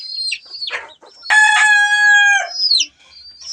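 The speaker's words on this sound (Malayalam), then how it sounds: "ബാക്കി പുള്ളിക്കോഴി അങ്ങനെ പലതരം കോഴികളുമാണ്" Chickens in a backyard coop with spotted hens and black chicks: close, loud clucks and a drawn-out crowing call, broken by short pauses and cheeping, with no talking.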